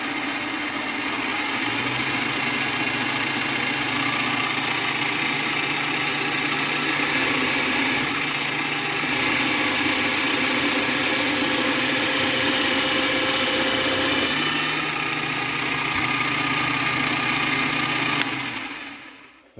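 A Parkside DP60 electronic bench drill runs steadily, a close continuous motor whine with a low hum beneath. The pitch shifts slightly partway through before the motor winds down and stops at the end.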